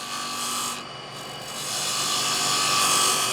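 A parting tool scrapes spinning wood on a lathe, a steady, loud, hissing rasp that runs unbroken and close, with the lathe's hum underneath and no talking.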